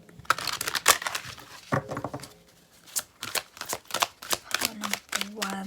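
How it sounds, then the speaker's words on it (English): Crisp bursts of cards being shuffled and riffled close up, irregular rapid flicks and slaps with short pauses between. "So we'll just shuffle these."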